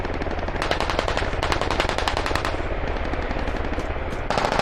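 Sustained automatic gunfire in the military shooter game Squad, a rapid, loud, unbroken machine-gun rattle with overlapping bursts throughout, close and dense, no talking.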